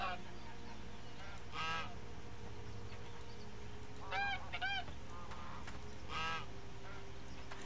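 Geese honk in the video game Albion Online, with three short bursts of nasal, harmonic honks spread across several seconds over a low steady background hum, with no talking.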